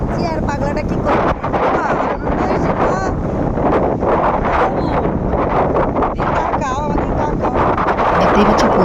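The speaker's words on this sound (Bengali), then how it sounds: "দেখতেই পাচ্ছ প্রচুর হাওয়া, একটু কথা বলা যাচ্ছে না" Strong seaside wind roars steadily and buffets the microphone throughout, loud and close, with voices faintly talking beneath the gusts.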